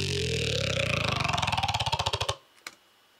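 Serum synth growl bass variation using a different wavetable, a loud buzzing tone breaking into fast pulsing stutters that speed up before cutting off, followed by a short faint blip.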